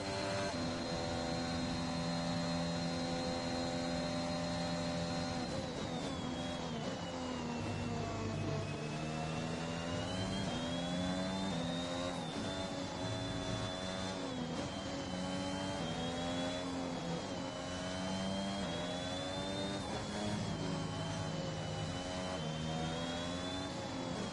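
Formula 1 cars in F1 2021 on the final lap of a race: a continuous high engine whine rises and falls through gear changes and revving, sustained and loud, with no voices over it.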